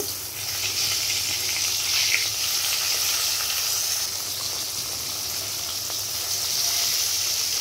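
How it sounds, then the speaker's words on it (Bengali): Fish frying in hot oil give off a steady, close sizzle that holds evenly throughout with no voices over it. "তেলটা গরম হয়ে গেছে। এবার মাছগুলো আমি দিয়ে দিব, মাছগুলো দিয়ে দিলাম, ভালোভাবে কিন্তু ভেজে নিতে হবে"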